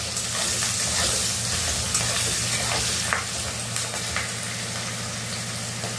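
Flat beans frying in a pan with salt, turmeric and green chillies, giving a steady, loud sizzle with crackles and spatters over a low constant hum.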